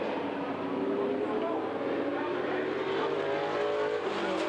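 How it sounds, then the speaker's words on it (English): Race cars at All American Speedway accelerate side by side down the back straightaway in a drag race, a steady roar of engines with a commentator talking over it throughout. "And they drag race down the back straightaway."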